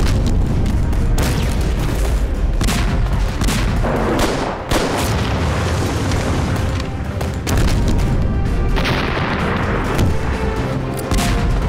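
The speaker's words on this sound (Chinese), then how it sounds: "你们继续炮轰" Heavy artillery bombardment in a wartime drama battle scene, loud continuous booms and blasts rolling over one another with dense rumbling and crackling gunfire throughout.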